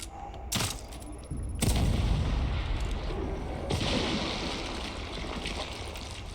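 An enemy explodes in The Evil Within 2, a heavy booming blast followed by a sustained rumbling, crackling roar that stays loud and slowly fades.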